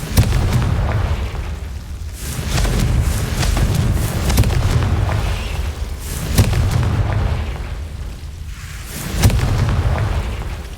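Confringo fireball spells explode in the video game Hogwarts Legacy. Several heavy, booming blasts land a few seconds apart, each trailing into a rumbling decay over continuous low-end roar.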